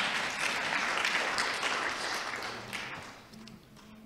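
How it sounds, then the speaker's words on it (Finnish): An audience at a lecture on Israel and the Middle East gives a sustained round of clapping that stays fairly even, then softens toward the end as a few voices murmur underneath. "Saa taputtaa, kiitos."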